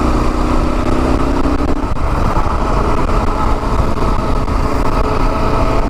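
A Kawasaki KLR 650 single-cylinder motorcycle cruises along a backroad on a mild day, its steady engine drone loud and close throughout with constant wind rush and no talk.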